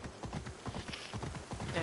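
Hooves of a unicorn mount in a fantasy video game clip-clop in a steady, rapid rhythm, close and fairly loud, with a faint voice mixed in.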